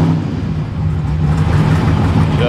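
A 1957 Chevy engine runs just after starting, a steady close mid-pitched rumble with a low hum throughout, loud and without voices.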